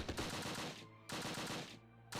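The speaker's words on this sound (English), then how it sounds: "We're under heavy fire." Heavy gunfire in the Close Combat video game: two dense, rapid bursts of machine-gun fire separated by a short gap, fairly faint, with no talking.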